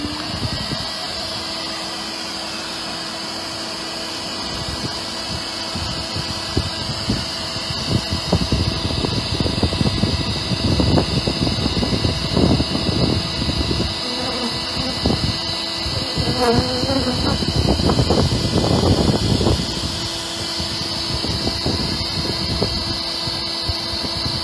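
A bee vacuum runs during a honey bee removal from a chimney, giving a steady mechanical whine and hum, with rustling and knocking on top in the middle stretch.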